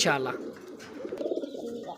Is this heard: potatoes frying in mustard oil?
no